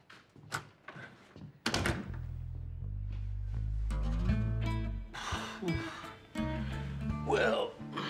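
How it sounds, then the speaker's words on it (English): A door thunks shut in a comedy scene, a dull close knock heard among lively talking and exclaiming voices. "Could you shut the door?"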